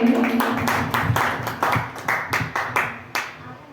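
Rhythmic clapping follows a Kannada film song duet at a music event, about a dozen sharp claps in a steady beat, close and fairly loud, tapering off at the end.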